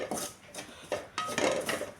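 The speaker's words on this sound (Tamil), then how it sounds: "இன்னும் ஒரு 2 நிமிஷம் வறுத்துக்கலாம்." Grated coconut is dry-roasted in a pan for idli podi, heard as a few distinct spatula scrapes and rubs against the metal, close and moderately quiet with short pauses between strokes.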